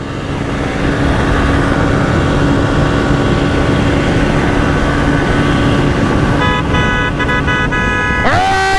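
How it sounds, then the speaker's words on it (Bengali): A motorbike riding hard in fifth gear on a road with trucks, a dense steady engine and wind roar with a vehicle horn blaring near the end. "আজকে একটু টান হয়ে যাক 5 গিয়ারে বাইক।"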